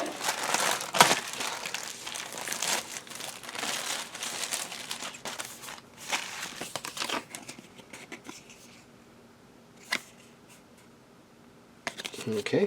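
Paper instruction sheets and cards from a Craftsman Toys figure set rustle, crinkle and shuffle close by in bursts of handling, with a few sharp taps and quieter pauses between.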